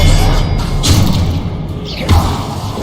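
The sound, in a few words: Expelliarmus spell impact in Hogwarts Legacy video game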